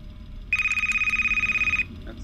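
An in-game telephone rings in a dark horror video game set among animatronics at a Jollibee's restaurant: one loud, rapid trilling bell burst of just over a second, standing out clearly over a low background hum.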